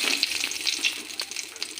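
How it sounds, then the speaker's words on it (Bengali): Bay leaf and whole spices hit hot oil in a kadai for tempering, giving a loud, close, crackling sizzle that continues steadily through the short moment. "তেলের কড়াইতে আমি পুরন দেব"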